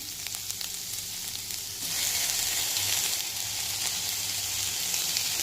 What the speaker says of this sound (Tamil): இப்போ பச்சை மிளகா வதங்கிட்டு இருக்கிறப்பையே நம்ம என்ன பண்ணுறோம்னா தக்காளி சேர்க்குறோம்.